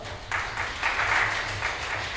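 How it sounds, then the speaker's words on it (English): Conference audience giving a warm round of applause for the mentoring talk's speaker, Kelvin Kong, a fairly quiet, steady patter of clapping lasting a couple of seconds. "let's give him the warmest round of applause"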